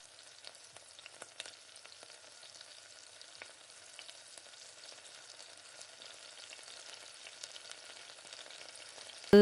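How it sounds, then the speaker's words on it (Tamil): Mustard, cumin and fennel seeds crackle in hot oil inside a cooker, a faint, continuous fine sizzle dotted with tiny pops, with a sudden louder knock right at the end. "சீரகம், சோம்பெல்லாம் பொரிஞ்சதுக்கு பின்னாடி"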